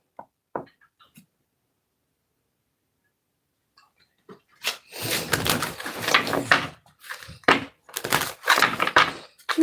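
Tarot cards being shuffled by hand after a mostly quiet stretch with a few small taps, followed by several bursts of riffling and shuffling that come in uneven groups close to the microphone.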